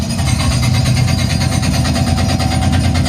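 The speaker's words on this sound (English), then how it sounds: "what I'm gonna play is this construction site noise" Construction site noise played back over a speaker: a loud, steady rumble of heavy engines and machinery with a rapid rattling pulse, constant and close for a few seconds.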